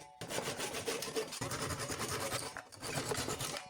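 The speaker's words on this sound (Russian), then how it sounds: "Теперь беру японскую пилу по дереву и отпиливаю все ламели" A Japanese pull saw cuts off protruding wooden lamellae flush with a piece of furniture, making a steady, quiet rasping with repeated back-and-forth strokes and a brief pause midway.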